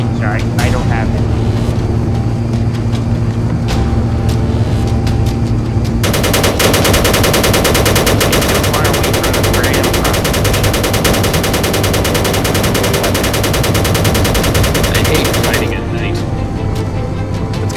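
Sustained automatic gunfire in the video game Space Engineers, a dense continuous burst lasting about ten seconds, loud and close, with engine-like drone and game noise before and after, and players talking over it.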